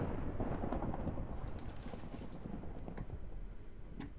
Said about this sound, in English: Wow, this lightning's getting close